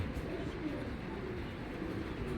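Soft, low cooing of Giribaz pigeons at a pigeon farm repeats over a steady background murmur, moderately close and fairly quiet throughout.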